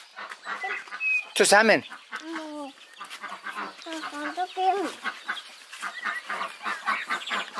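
Chickens and small chicks cluck and peep in a garden, with repeated calls close by and a louder squawk near the start, heard under the chatter of adults and children.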